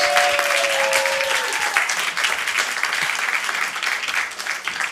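Steady applause from an audience at a school board of education meeting, honouring a group of seventh-grade students; dense, continuous clapping holds loud and even for the whole stretch with no speech over it.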